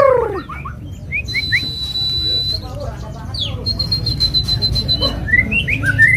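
An oriental magpie-robin (murai blorok), a caged songbird for sale, sings a busy run of chirps, whistles and squawky notes, with long held whistles and quick upward flicks over a steady background murmur.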